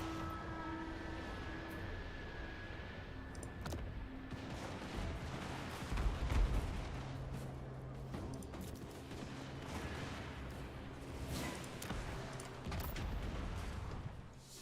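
Mortar artillery fire in the battle game Total War: Warhammer, with booming blasts and rumbling volleys over a dense, continuous battle din that swells midway, no speech.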